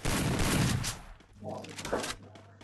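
Sniper rifle gunfire in a video game, a loud close crack with rolling echo at the start, fading into quieter scattered shots and rumble.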